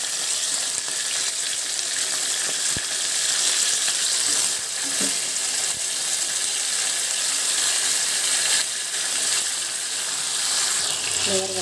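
Liver sizzles in a hot pan, a steady loud hiss of frying that continues throughout, with a few clinks of a utensil against the pan and brief stirring near the end.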